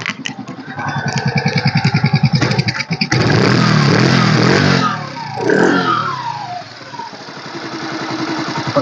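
A 2018 Yamaha Saluto motorcycle in good condition with new tyres cranks with a rapid chattering starter, fires up, and settles into a loud, close, throbbing idle with some revs.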